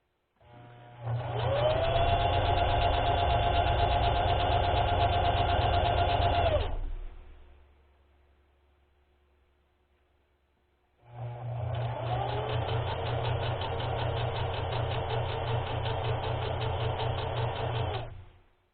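A heavy-duty sewing machine stitching ribbon trim onto socks, with two long, steady runs of fast, loud motor whir and rapid stitching, split by a few seconds of near quiet.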